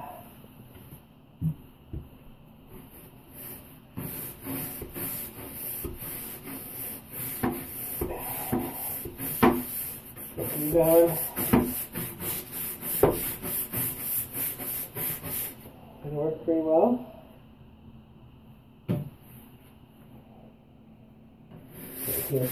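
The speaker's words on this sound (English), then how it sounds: "First, I'm going to use a normal brush, a scrub brush." Scrub brush scrubbing fully dried latex paint off a bathtub, irregular bristly rubbing strokes that come in rapid scratchy bursts, pausing now and then, close and moderately loud, with no speech.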